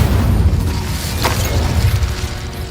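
An Incendio fire spell in the Hogwarts Legacy video game goes off as a loud, sustained whooshing blast with a sharp burst near the middle.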